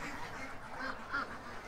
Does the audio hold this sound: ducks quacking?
yes